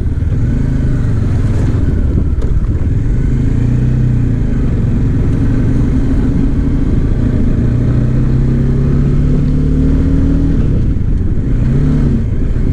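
A Bajaj Dominar 400 motorcycle engine runs steadily at close range, its low hum rising and falling slightly as the bike rides along, with no voices.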